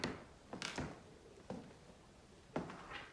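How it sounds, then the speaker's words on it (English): Original 16th-century elm floorboards in Acton Court, a Tudor house, give a few separate quiet creaks and woody thuds under footsteps, spaced about a second apart in an otherwise still room. "That is the sound of 16th century squeaky floorboards that Henry VIII"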